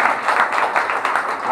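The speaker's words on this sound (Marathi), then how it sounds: "तर परत एकदा जोरदार टाळ्या म्हणून द्या" An audience claps steadily through a short burst of applause, fairly close and dense, with no voices over it.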